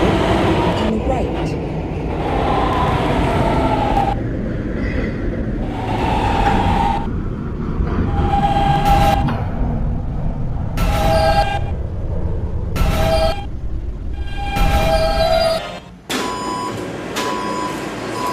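A K line subway train rolls along as heard from the driver's cab, with a steady rumbling run, repeated short electronic tones and bursts of clatter, while an automated announcement voice speaks over it.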